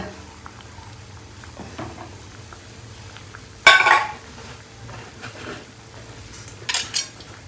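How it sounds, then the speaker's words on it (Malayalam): Coconut milk curry stirred gently in a pot: soft, low scraping and swirling, broken by a sharper clink of the spoon against the rim partway through and a couple of lighter taps near the end, with no voices. "ജസ്റ്റ് ഒന്ന് പതുക്കെ ഇളക്കാം"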